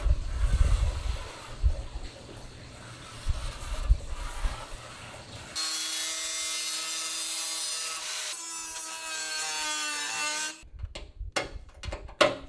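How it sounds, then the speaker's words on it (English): A power tool cuts through the fender of a right-hand-drive Honda Integra Type-R DC2 during a widebody kit install, with rough scraping bursts, then a sustained high whining cut for several seconds before sputtering stops. "remove the Cleco clamps and then cut the rest of the fender"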